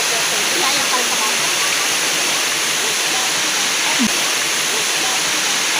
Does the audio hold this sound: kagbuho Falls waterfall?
yes